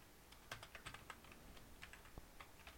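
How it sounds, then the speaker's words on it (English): Faint, close typing on a computer keyboard, with quick irregular keystrokes in short bursts over a quiet background. "So let's type that profile image."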